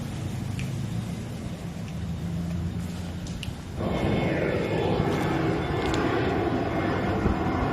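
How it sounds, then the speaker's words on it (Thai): Airplane engines roar steadily from near Don Mueang airport in Bangkok, heard from inside a room as a broad rumbling wash that swells louder partway through. "อยู่ในห้องก็ได้ยินเสียงเครื่องบิน"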